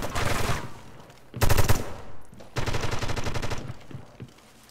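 Rapid automatic gunfire from a competitive video game match comes in three loud bursts separated by short pauses, each a fast rattling string of shots.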